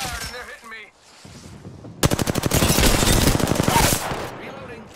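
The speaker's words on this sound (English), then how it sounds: "Shots fired, and they're hitting me." Rapid automatic gunfire in the Apex Legends video game, a dense burst of evenly spaced shots lasting about two seconds, loud and close, preceded by softer game effects and fading into ambient game noise.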